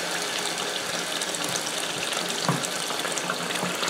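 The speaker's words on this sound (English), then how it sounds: "I'm going to add enough water" Water poured steadily into a container to cover peaches for homemade peach brandy, a continuous close rushing stream with no talking.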